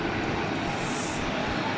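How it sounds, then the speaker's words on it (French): Parked airliners at Zurich airport run their auxiliary power units, giving a loud, steady, broadband roar and whine that fills the scene evenly with no breaks or voices. "On peut bien les entendre avec des APU allumés et plein de choses comme ça."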